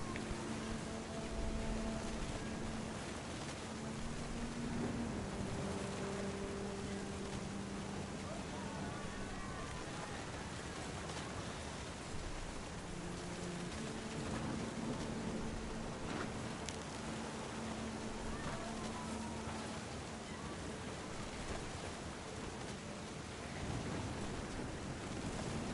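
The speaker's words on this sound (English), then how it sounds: "the rain looks nice." Steady rain falls throughout a stormy scene in the video game What Remains of Edith Finch, a dense, even wash of patter running under faint music and game tones.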